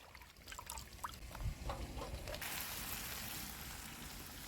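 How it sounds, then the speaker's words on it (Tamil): Soft rushing and trickling of water being drained off chopped eggplant, starting faint and becoming a steady splashing pour after a couple of seconds. "அந்த கத்திரிக்காயை தண்ணியை விட்டு வடித்து எடுத்துக்கலாம்"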